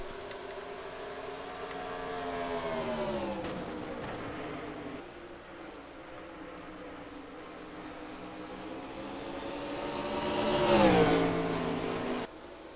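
Race cars lap New Hampshire in a racing video game, engines droning and rising in pitch as they accelerate, with one car's engine swelling louder near the end before cutting off; a steady mid-level roar throughout.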